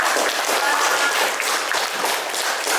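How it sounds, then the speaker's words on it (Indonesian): A classroom crowd claps steadily in dense, continuous applause filling the whole stretch, loud and close with no break. "tepuk tangan untuk jawaban dari Tamil"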